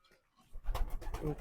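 Soft cooing of pigeons with a young squab close by, a few low throaty coos following a brief quiet start.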